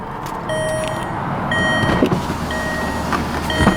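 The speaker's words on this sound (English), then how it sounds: "Close the door so it won't chime." A 1999 Volkswagen Beetle's door-open chime rings as a steady repeating tone about once per second, close by inside the cabin over a low background rumble and faint handling noises.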